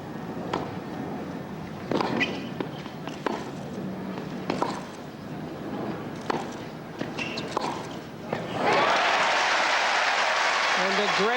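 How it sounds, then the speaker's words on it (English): Crowd applause breaks out at the 1993 Toronto women's tennis final, Graf versus Capriati, after Capriati's winning two-handed backhand, a broad steady clapping that swells near the end after scattered court sounds and footsteps. "And a great round of applause for Jennifer Capriati"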